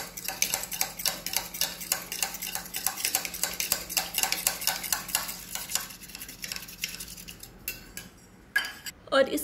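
A spoon clinks and scrapes in quick, regular strokes against a bowl while a cucumber and aloe vera face mask mixture is stirred, close and continuous, easing off near the end with a few louder knocks.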